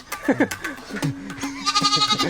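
A goat bleats several times up close in a farmyard, wavering cries mixed with people talking nearby.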